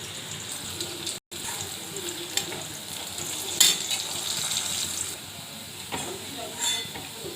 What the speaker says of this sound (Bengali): কাঁকরোলটা ভেজে দিই।